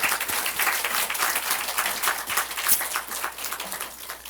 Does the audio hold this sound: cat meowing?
no